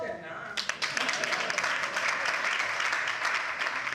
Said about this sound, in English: Applaud them now.